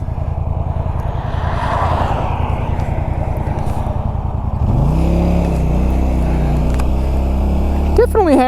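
A Polaris Sportsman XP 1000 S four-wheeler, a heavy 1,000-pound ATV, runs steadily on pavement at around 65, its engine a continuous loud drone that shifts and rises in pitch partway through as speed changes.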